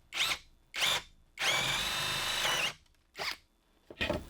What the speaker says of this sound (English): I've got a paddle bit or a spade bit. I'm going to sink this hole in just a little bit to hide the head of that bolt.